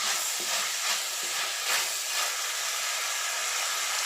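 Onions with crushed ginger and garlic sauté in a pan for a chicken curry, giving a steady close sizzle with faint stirring scrapes throughout and no voices.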